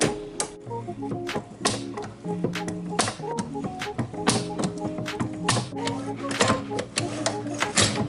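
A 1930s Harvard medal stamper's coin-operated mechanism runs with a busy, loud mechanical clatter of rapid taps and clanks over ringing metallic tones, continuing without pause.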